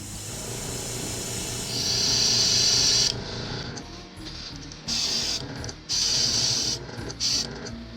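An airbrush sprays paint accents onto the tail of a musky fishing lure in short hissing bursts, some long and some brief, with a low background hum between them.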